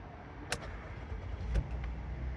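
A 2010 Buick Enclave cranks and starts after being diagnosed for a no-start fault, with a couple of short clicks followed by an engine that catches and settles into a low, steady idle close by.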